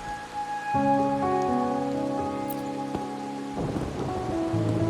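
Steady rain falls in the video game Wuthering Waves, a soft, continuous patter blended under sustained tonal game music, with no talking.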